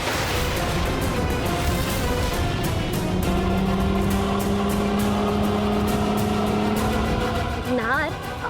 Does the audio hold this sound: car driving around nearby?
yes